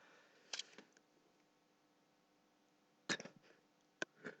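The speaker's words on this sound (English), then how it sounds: "that was another sneeze there" A person sneezes near the microphone: a few quiet, abrupt bursts spread over several seconds against a faint steady hiss.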